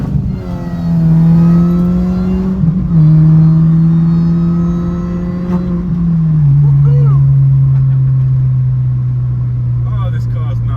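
A sports car engine drones and rises under acceleration while driving, a strong low tone climbing and shifting through gears, loud and close from inside the cabin, with a voice speaking over it.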